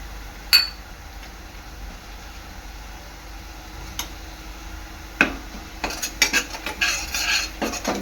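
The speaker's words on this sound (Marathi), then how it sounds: "मिक्स करून घ्यायचं आहे" A spoon stirs coriander powder and garam masala into veg pulav in a pressure cooker, giving sparse metallic clinks over quiet stretches, then a busier run of scraping and tapping near the end.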